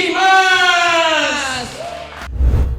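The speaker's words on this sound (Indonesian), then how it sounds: "Beri tepuk tangan yang meriah buat" A large studio audience cheers, whoops and yells loudly to welcome a stand-up comedian to the stage in an Indonesian comedy competition, the crowd roar swelling and then settling.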